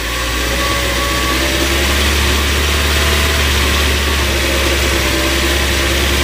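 A car engine idling with a misfire blamed on a fake spark plug: a loud, close, steady drone with a low rumble and vibration that runs unbroken for the whole stretch.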